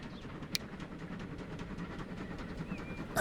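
A Pullman train runs along UK track in Transport Fever 2 with a steady, low rolling rumble and faint clatter, moderately loud and continuous, with a brief sharp click near the start and another at the end.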